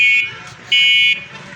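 A homemade motor vehicle that runs without petrol sounds its horn in two short, loud, buzzy electronic beeps, the second one longer, with faint background noise between them.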